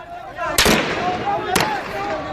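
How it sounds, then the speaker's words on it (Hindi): Two sharp, loud blasts of shelling or gunfire ring out about a second apart in Lahore, Pakistan, each echoing briefly over a murmur of voices. "शेलिंग जारी है।"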